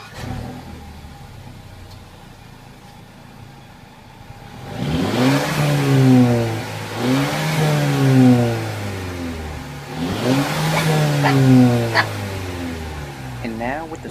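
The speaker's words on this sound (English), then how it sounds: "I'm going to show you guys two set of different revs here. The first one's going to be without the sport on." A 2014 Mercedes-Benz CLA250 Edition 1 with sport mode off, revving in three rising bursts from idle, each climbing and falling back, loud and close, following a few quiet seconds of low idle.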